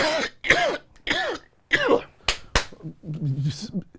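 Several rough coughs in a row, close and strained, with gasping breaths and a couple of sharp smacks between them.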